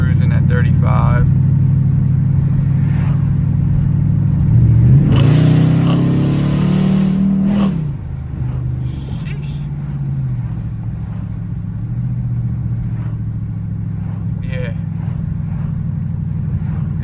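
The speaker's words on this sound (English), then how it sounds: "Let me just let y'all hear what it sounds like. Just cruising at 35." A Dodge Challenger SRT8 cruises at 35 mph, its engine a deep, steady rumble with one loud rev swelling and fading midway, then settling back to a low drone.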